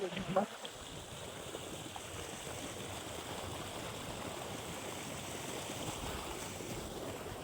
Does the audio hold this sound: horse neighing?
no